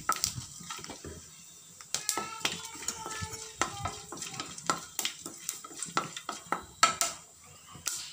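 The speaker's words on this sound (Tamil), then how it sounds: "நல்லா பொரியட்டும்." Cloves and fennel seeds crackle and sizzle in hot oil, with scattered pops and a few clinks of a metal utensil against the pan, close by.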